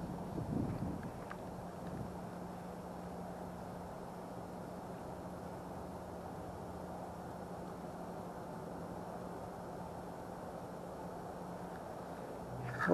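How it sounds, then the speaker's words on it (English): Cold late-autumn wind blowing outdoors at a fishing spot, a steady low rushing buffet across the microphone that holds evenly throughout, with no talking. "It's cold and it's windy."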